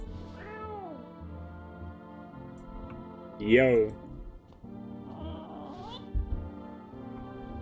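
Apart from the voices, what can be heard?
cat meowing in a video game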